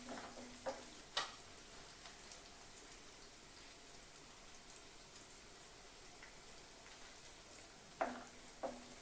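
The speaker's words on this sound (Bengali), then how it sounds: "পেঁয়াজ কুচানোটা আমি খুব ভালো করে একটু ভেজে নেব।" Chopped onions fry quietly in a pan with a soft, even sizzle, broken by a few sharp clatters of a utensil near the start and again near the end.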